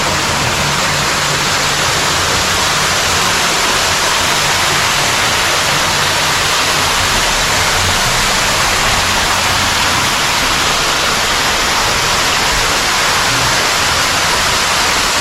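A waterfall at Wat Phu Sing temple in Kalasin, Thailand, gives off a loud, unbroken rushing hiss of falling water, close and steady for the whole stretch with no talking.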